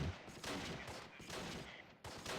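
Machine gun fire rattles in the Close Combat wargame, quiet sustained bursts with brief gaps between them, heard faintly and without any talk.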